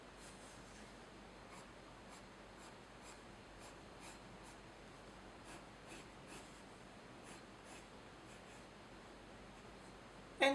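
Pencil scratching across paper while a simple stylized cartoon cat is drawn, with soft, steady strokes repeating close up and faint throughout, no talking.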